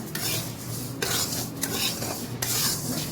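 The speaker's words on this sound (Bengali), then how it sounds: "আবার এবার চিনিটাকে ক্যারামেল করে নেব" Sugar caramelizing in a pan while being stirred, giving a steady scraping, rubbing rasp with a few louder strokes and a faint sizzle underneath, close and continuous without any talk.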